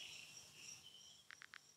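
Three short, evenly spaced pulses of a female cricket call, once mistaken for a tree frog, come in quick succession near the end after a stretch of faint hissing background. The call is clear but quiet, with no talk.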